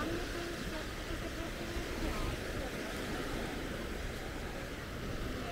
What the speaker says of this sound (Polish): Te fale błotem walą.